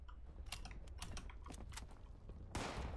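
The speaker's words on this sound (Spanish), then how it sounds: "Escucho unos disparos chunguísimos." A rapid burst of sharp gunshots from a plasma weapon in Fallout 76 rings out over a steady low rumble, ending in a louder, denser blast of fire near the close.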